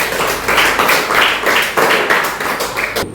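An audience at a talk on exam fear claps together in a steady, loud burst of applause with a slightly pulsing rhythm, lasting about three seconds before cutting off.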